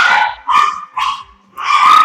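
Dogs bark in four loud, close, separate bursts with brief gaps between them, and no talk is heard.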